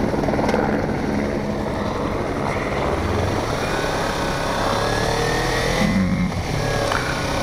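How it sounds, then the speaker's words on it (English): A helicopter lifts off near a motorcycle ridden around Victorville, California, its rotor drone blending with steady engine and road noise, loud and continuous throughout. "Helicopter's taking off."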